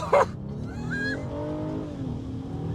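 A 2025 Honda Ridgeline pickup towing a trailer slows hard with a brief tire squeal and a short skid over a steady engine rumble, close and fairly loud.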